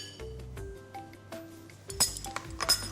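Cumin is stirred into diced vegetables in a bowl, with light clinks of a utensil against the bowl, scattered and close, ending in a few sharper ringing taps.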